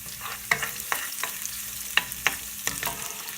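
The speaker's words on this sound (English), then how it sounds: "Fry that up a little bit on high heat." Chicken curry frying on high heat with cardamom and cloves, a steady sizzle broken by several sharp scrapes and clinks of a spoon stirring the pan, close and fairly quiet with no talking.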